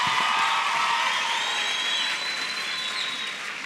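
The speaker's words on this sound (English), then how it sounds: "I think the two teams from Agetse and Kanya Lesedi High Schools deserve another round of applause." An audience applauds at a science month launch ceremony, with steady, moderately loud clapping that slowly fades over a few seconds.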